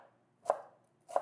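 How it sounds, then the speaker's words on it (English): A knife chops through bunched fresh herbs on a cutting board for an Ethiopian lentil stew garnish, two crisp separate thuds in near silence, close and clear. "So kind of squeeze them together and then chop"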